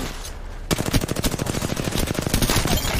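Rapid bursts of automatic gunfire from a first-person battle royale shooter in a ranked match, loud and dense, firing continuously after a brief quiet start with no talk over it.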